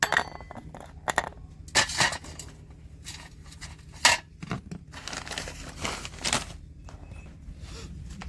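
Soft camphor is crumbled into powder by hand, with close irregular crinkly crunches and rustles in short bursts and pauses.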